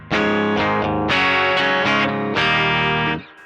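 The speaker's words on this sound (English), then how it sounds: "And sounds like this with a single coil." Electric guitar on a single-coil pickup, run through a Nux Plexi Crunch overdrive pedal into a clean amp, strikes a handful of loud, gritty distorted chords in a quick phrase. The last chord is cut short, and no one talks.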